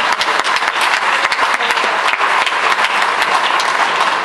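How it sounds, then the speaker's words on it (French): Gala charity dinner audience breaking into applause, a loud, dense and continuous clapping from a large crowd that holds steady throughout, close and full without talk. "on peut l'applaudir, Madame Laborde"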